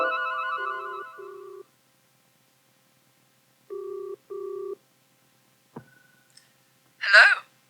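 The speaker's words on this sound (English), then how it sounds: "Early on Thursday morning, Lynn made a phone call to Claire Nash" Telephone rings in a 1979 British radio drama, with a long warbling ring and a later double ring over silence, then a click and a short breathy sound.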